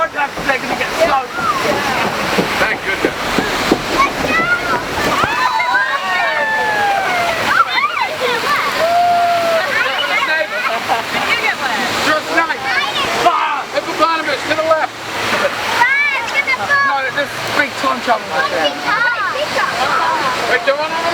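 Water rushes and splashes around a raft on the Kali River Rapids ride at Animal Kingdom, a continuous loud churning roar with riders shouting and talking over it throughout.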